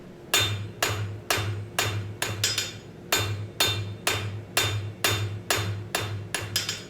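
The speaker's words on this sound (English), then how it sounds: "Let me hammer this real quick and then I'll tell you." Steady hammer blows ring out on hot metal against an anvil, about two strikes per second, each sharp clang followed by a brief ringing decay.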